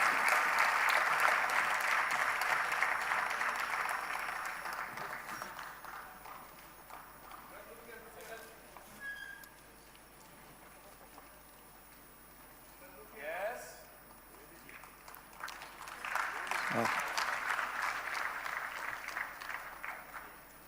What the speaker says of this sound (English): With a round of applause, let us celebrate the poster launch of DIPEX 2024.